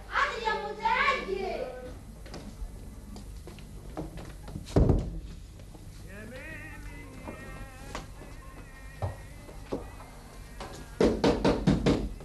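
Knocking on a door in an Egyptian television drama, heard first as a single heavy thump and later as a quick burst of sharp raps, with people, including a child, talking between them.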